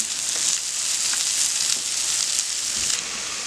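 Venison pieces frying in a pan toward a golden-brown sear, giving a steady close sizzle with crackling pops throughout, no voices.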